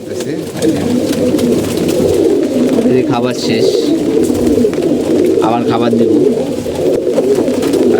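Pigeons coo steadily and close by during feeding, a dense, continuous low burbling from several birds, while a person talks over them.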